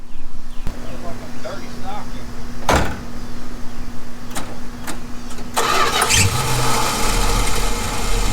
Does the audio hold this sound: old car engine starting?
yes